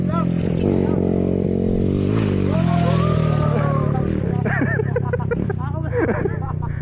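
A motorcycle engine revs and idles on a mountain trail at Mt. Oro, with a low, steady drone rising in pitch at times. Several people talk and shout over it close by.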